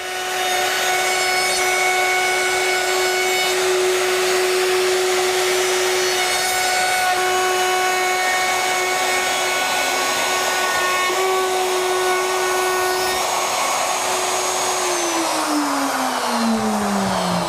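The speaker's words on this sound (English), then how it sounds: "It's just ready now for the router treatment, going all around, trimming everything back neat to the framework" A Bosch router trims plywood back flush to the framework of a chicken coop, a loud, steady high-pitched whine with a woody rasp running unbroken throughout, its pitch dipping near the end as the cutter slows.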